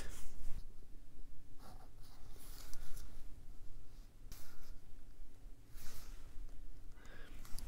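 Pen or pencil drawing an origami crease pattern on paper, a series of soft scratchy strokes coming in short bursts, close and quiet, with faint breathing between them.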